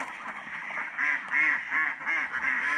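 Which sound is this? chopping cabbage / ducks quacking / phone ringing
ducks quacking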